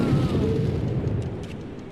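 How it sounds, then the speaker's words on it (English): A grenade bursts in the video game Slurpathon X: one dull, heavy boom that fades over about two seconds. "It's gonna cause him to hit me with a grenade"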